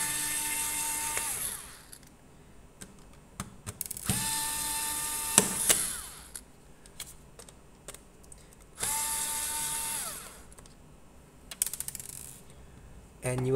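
An electric screwdriver whirs in several separate runs while removing non-captive screws inside a Dell Latitude 5480 laptop, with clicks and small metallic handling noises between the close, fairly loud bursts.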